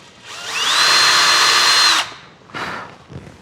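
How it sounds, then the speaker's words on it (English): A power drill bores a pilot hole in wood during a model aircraft build, a close, loud whine lasting about two seconds. A shorter burst follows, and nobody speaks. "I'm gonna drill. I gotta drill a hole."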